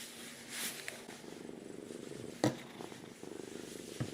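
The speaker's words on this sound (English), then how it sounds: "Damn, she's purring." A female cat purrs steadily while being brushed, a soft close rhythmic rumble with a brief louder rustle partway through, and no talking.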